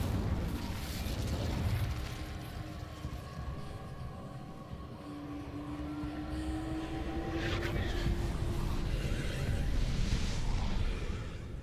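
An Incendio fire spell erupts in the Hogwarts Legacy video game, a sustained roaring, rumbling burst of flame that swells and surges continuously over about twelve seconds, with a faint tonal whine partway through.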